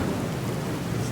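Thunder from the True Storms weather mod in Fallout 4 on Xbox One: a steady, low rumbling roar with a wash of rain, continuous and fairly loud with no distinct cracks.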